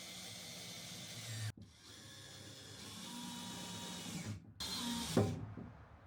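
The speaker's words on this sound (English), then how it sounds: "I'm gonna start screwing this board in." A power drill drives screws into plywood in steady whirring bursts with brief pauses between, close by, a sharp mechanical rattle near the end.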